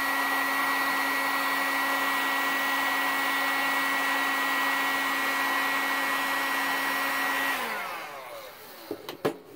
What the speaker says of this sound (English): It's a pretty hot heat gun.